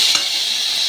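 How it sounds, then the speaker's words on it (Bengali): Potatoes and bean seeds fry in a little oil in a pan, giving a loud, continuous sizzle and hiss with a brief stir near the start. "এবার আলু আর সিমের বিচি এটা ছেড়ে দিলাম, করে এইটাকে ভাজা ভাজা করব"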